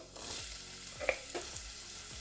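Onions fry in hot palm oil in a pot, giving a soft, steady sizzle with a few light stirring clinks, close and fairly quiet.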